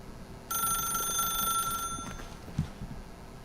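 Telephone ringing in The Stanley Parable video game, a loud electronic bell-like ring that sounds for over a second, then stops, followed by a soft thud, no talking.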